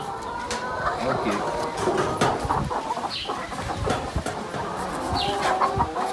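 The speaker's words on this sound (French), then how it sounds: "Une soixantaine de poules pondeuses." Around sixty laying hens cluck and call in a poultry house on a Brazzaville farm, a busy, continuous flock chatter with occasional sharper calls, heard under people talking nearby.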